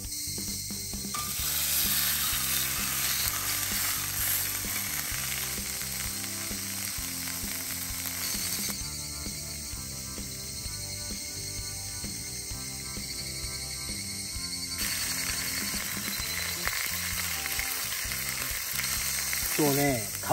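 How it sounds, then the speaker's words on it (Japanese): A thick-cut 210 g bacon block sizzles over a campfire at a hot forest solo campsite, a dense continuous crackling fry with a steady high hiss and busy mechanical-sounding ticks, no speech. "今日はね、焚き火で、これいきます。 ベーコンブロック。 厚切りが美味しい 210g。"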